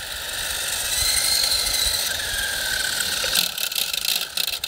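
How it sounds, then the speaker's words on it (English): A Nincoair AluTwin G 340 40MHz three-channel RC helicopter spins up its tail rotor with a steady, close, high-pitched motor whine, which gives way to a rougher, fluttering rattle near the end. "Tail rotor spins up"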